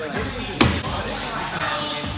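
A thrown axe strikes a wooden target with one sharp, loud thud, surrounded by room chatter and background crowd noise.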